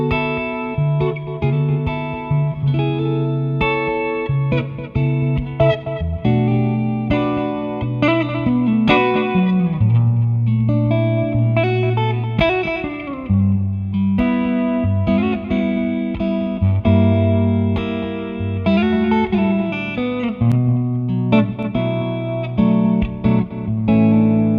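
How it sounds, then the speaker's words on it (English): An electric guitar played through a Tech 21 Fly Rig 5 V2 pedal with its delay engaged rings out in a continuous run of overdriven chords and single notes, with repeats trailing behind each phrase, played alone without talk. "now let's check out the delay."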